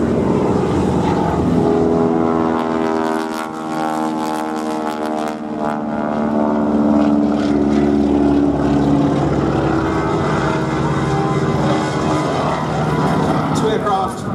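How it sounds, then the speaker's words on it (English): Propeller aircraft of a wing-walking display team droning loudly overhead at the Duxford air show, a steady throbbing engine tone rising and falling as the planes pass, with a commentator talking over it. "two aircraft in towards each other, crossing at the datum"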